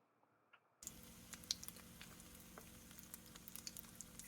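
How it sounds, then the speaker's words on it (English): Flour-dredged, egg-coated fish fillets go into hot oil in a frying pan, bursting into a steady, close sizzle with scattered sharp pops and crackles that continue without talk. "Fry them in hot oil for about 1 minute on each side."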